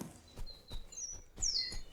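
A bird chirps outdoors with a few bright, short calls, one near the start and a stronger one toward the end, over soft low thumps and light rustling.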